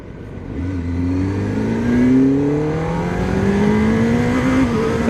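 Kawasaki Ninja ZX-10R sportbike, a 2026 model of about 190 horsepower, accelerates hard in first gear toward 7,000 RPM, its engine note climbing steadily as a loud, close, continuous rising whine without talk.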